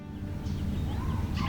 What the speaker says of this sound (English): You can clearly hear the birds singing,